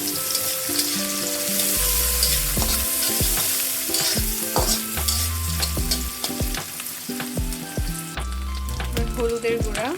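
Onions go into the oil left after frying shrimp, for a cabbage-with-shrimp dish. A loud, steady sizzle of frying fills the clip, with frequent close clanks and scrapes of a spatula against the pan. No one talks.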